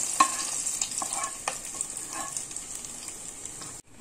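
Fried onions, cooked to light golden, stirred into urad dal in a single pot of mutton, with a steady sizzle and a few scraping stirs, close and moderately loud, no talking.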